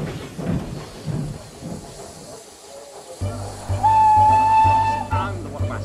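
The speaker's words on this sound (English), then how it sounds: "He snorted away in a cloud of steam." An animated steam engine lets off a loud hiss and blast of steam, then a sustained whistle sounds over a rhythmic chuffing beat as it pulls away, following a voice speaking.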